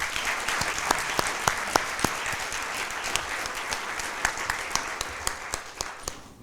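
An audience gives a round of applause for cardiac arrest survivors at a Chain of Survival event, broad sustained clapping with a few sharp individual claps standing out near and loud.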